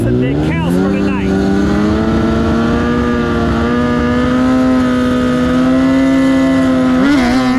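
A GSX-R 1000 drag bike staged beside a Hayabusa holds a loud, steady engine drone that climbs slightly in pitch before a sharp rev near the end, with a voice speaking briefly over it.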